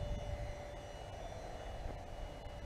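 A Concept X model jet aircraft taxis on the ground, its engine giving a steady, even whine and rush that holds at a constant level throughout, heard from a moderate distance with no talk.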